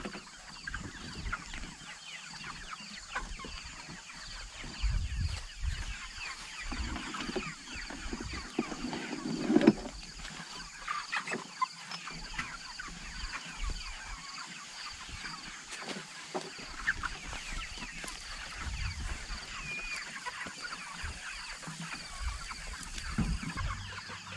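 Pastured chickens in pens, about 500 birds, cluck and murmur steadily in the background, with occasional sharper calls over a constant low hum.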